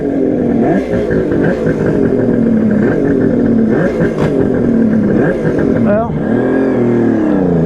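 A Kawasaki KH500 H1 motorcycle engine idles and revs up and down repeatedly, close and loud, with a rising rev near the end; people talk over it.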